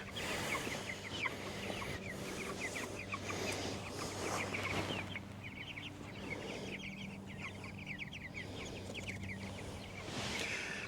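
Meat chickens cluck and chatter continuously on pasture, with many overlapping soft calls at a moderate distance and a low hum underneath.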